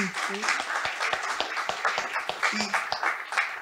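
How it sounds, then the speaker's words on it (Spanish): A small audience at a Chilean talk on ageism breaks into scattered applause, sharp individual claps spaced unevenly over a few seconds, with some voices underneath. "Un aplauso ahí."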